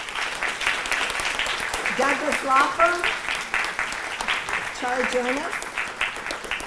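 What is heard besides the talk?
audience applause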